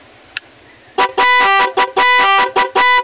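After a faint click, a loud car horn sounds in a rhythmic run of short and longer honks, close and insistent.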